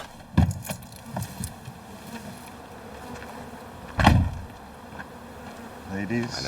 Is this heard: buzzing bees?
yes